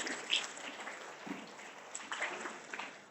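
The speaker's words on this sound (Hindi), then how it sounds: "अपने लिए एक बार तालियां बजा लीजिए आप लोग" College students at an orientation session in an Indian college of education clap together, a soft, fairly steady patter of many hands in an indoor hall, moderately faint and sustained without speech.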